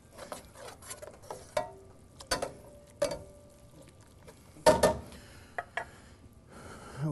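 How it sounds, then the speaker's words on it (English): A spoon gives a quick stir to a blended mixture in a pan: scattered scrapes and clicks with short bursts, one louder clatter midway, no talking. "We're going to give that a nice quick stir."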